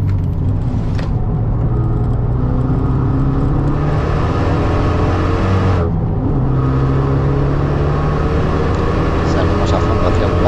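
A Renault Megane 3 RS accelerates at full throttle on a race track, its engine droning loud and steady with a brief dip mid-way as it shifts, heard from inside the car.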